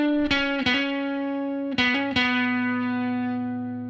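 Electric guitar plays a short solo melody, with sustained, slightly overdriven notes and a few quick pitch changes, ringing out alone and fading at the end.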